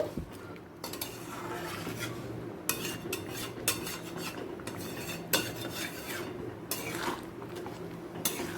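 A spoon scrapes and clinks against a pot while chickpea dal with sugar is stirred, a run of irregular metallic strokes and knocks over a low background hum, close and fairly quiet with nobody speaking.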